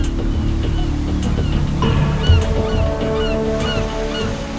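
A river waterfall where brown bears fish, heard as a constant loud rush of water throughout, with scattered high bird calls and honks rising over the roar.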